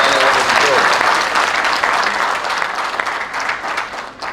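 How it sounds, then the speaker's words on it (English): A crowd at an engineering school symposium claps steadily in a thick burst of applause that gradually thins out toward the end. "A big round of applause for the chair and the organizing committee."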